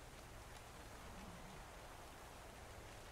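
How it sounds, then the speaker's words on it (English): Acid rain falls in the Ark Survival video game, a soft, even hiss of rain that stays faint and unchanging throughout, with no voices over it. "I don't really want to go out in the acid rain"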